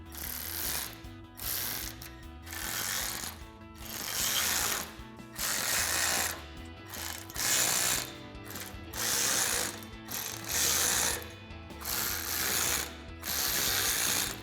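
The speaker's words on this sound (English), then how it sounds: "we can now come back and tighten all of our screws on both sides" A ratchet tightens screws on a RedRock aluminum roof rack on a 2024-2026 Toyota Tacoma, clicking in steady repeated bursts of ratcheting strokes with brief pauses between them. The sound is close and clear, with no talk over it.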